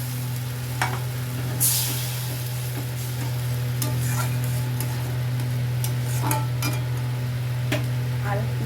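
Chili paneer sizzles steadily in a hot pan as a cornflour slurry is stirred in, with a constant frying hiss and occasional light clinks of a utensil against the pan.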